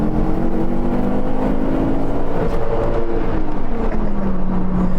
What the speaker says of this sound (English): we're spinning the tires a little bit